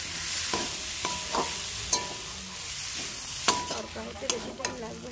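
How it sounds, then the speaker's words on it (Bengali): Tadka dal is stirred into a sizzling cooked spice masala for egg tadka, with a steady frying hiss broken by sharp clinks and scrapes of a spoon against the pan, several strokes in uneven rhythm. "এবার আমি তড়কা ডাল দিয়ে দেবো। ভালো করে মিশিয়ে নিচ্ছি।"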